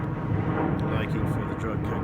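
An airplane passes overhead, a steady broadband roar filling the background while someone talks over it.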